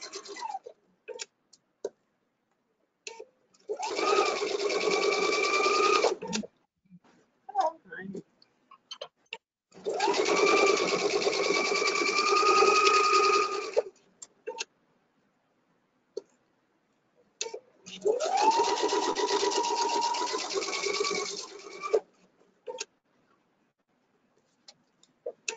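A Viking or Pfaff sewing machine stitches a zipper in three steady bursts of a few seconds each, separated by pauses with scattered small clicks and handling noises, close and moderately loud.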